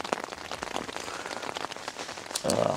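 Steady rain patters densely on a tent at a hiking campsite on the West Highland Way, close and continuous, with a brief louder rustle near the end.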